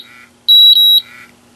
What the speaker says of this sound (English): The alarms will sound, illuminate, and vibrate.